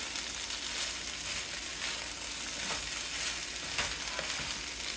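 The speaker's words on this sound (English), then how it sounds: "I'm just going to fry that up" Pork fried rice frying in a pan with eggs and bacon, giving a steady, close sizzle and crackle with occasional stirring scrapes throughout, no talking.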